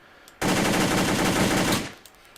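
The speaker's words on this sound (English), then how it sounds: "We can fire in semi-auto, or we can fire in full auto." An M-14 battle rifle fires a sustained full-auto burst in a video game, a loud, rapid, even stream of shots lasting well over a second, then cutting off into near quiet.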